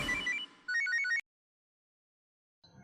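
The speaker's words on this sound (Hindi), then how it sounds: "फिर एक फोन आया।" Telephone rings in two short electronic melodic bursts, clear and close, then falls silent before a faint sound returns at the very end.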